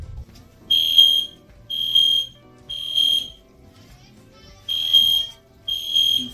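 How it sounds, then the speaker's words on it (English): A building fire alarm sounds near a blood work area, its loud electronic buzzing repeating in regular bursts of about a second with short gaps, alone without talk. "Somebody pulled the fire alarm while we were at the blood work."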